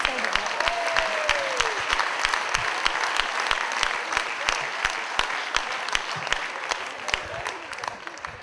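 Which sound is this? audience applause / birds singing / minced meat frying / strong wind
audience applause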